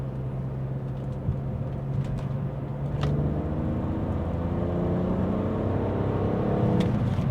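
BMW E46 330ci engine pulling hard at full throttle in third gear from near 3,000 RPM, a steady loud rising drone with a slight swell in intensity as it climbs, no talking.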